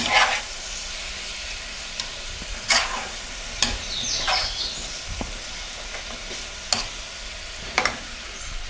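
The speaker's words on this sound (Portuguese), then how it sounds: "Agora vou refogar o presunto aqui." Chopped ham being sautéed in a pan already holding softened onion, garlic and tomato: a steady background sizzle broken by several sharp scraping stirs from a utensil, heard up close with no talking.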